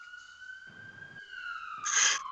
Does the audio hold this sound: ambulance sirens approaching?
yes